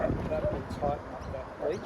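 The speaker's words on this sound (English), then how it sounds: "That's my dog barking." Dog barking in the distance during DF model sailboat tuning, a few faint, spaced barks and yips underneath someone speaking close by.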